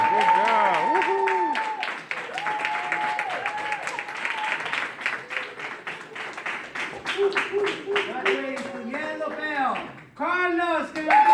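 Clapping and cheers ring out at a karate belt promotion ceremony, with scattered applause running beneath loud, excited voices and whoops from people in the room.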